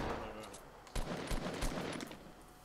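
A faint burst of rapid gunshots in a Fortnite Battle Royale match, a few sharp cracks close together over a busy game mix. No one speaks.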